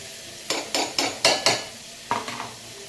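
Red chillies frying in a pan, stirred with a series of sharp scraping, clattering strokes over a light sizzle, about six quick hits in a row then a couple more, close and with no voices.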